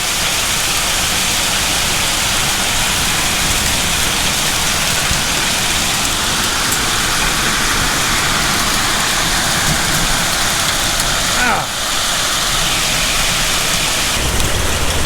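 Heavy rain with hail pours down during a storm on a vegetable farm, a dense, loud, continuous roar of water and ice pelting surfaces with no voices.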